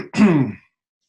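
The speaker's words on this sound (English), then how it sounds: "I shouldn't clear my throat on the mic" A single throat clearing, close and fairly loud, a short rough vocal burst lasting about half a second, followed by silence.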